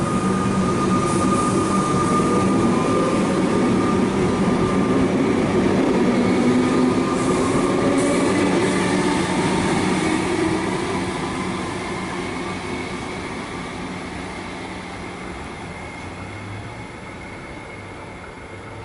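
A Comeng suburban electric train pulls out of Merinda Park station on the Cranbourne line in Melbourne, a loud, steady rumble and wheel noise close by that slowly fades as it moves away.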